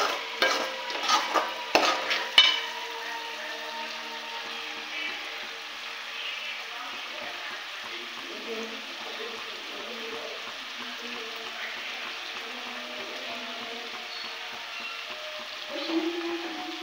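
Prawn curry cooks in a pan, with a few scraping stirs of the spoon early on, then a soft, steady sizzle and simmer that continues quietly under a gentle background hiss.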